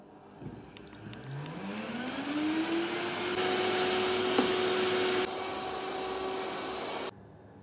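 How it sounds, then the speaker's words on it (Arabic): Household vacuum cleaner switched on at home, its motor whining upward as it spins up, then a loud steady roar that shifts in tone midway before cutting off abruptly near the end, with no talking. "وندوز سبيراتور للدار"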